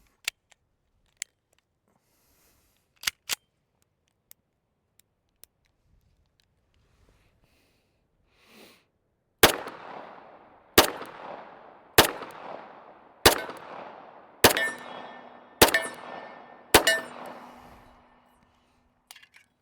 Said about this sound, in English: We've got a magazine filled up with 45 ACP. So we're going to see how the gun shoots